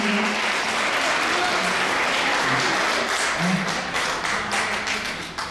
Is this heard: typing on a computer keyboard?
no